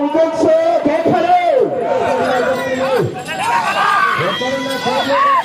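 A crowd at a village bullock cart race shouts and cheers loudly, overlapping excited voices in a continuous close-up clamour.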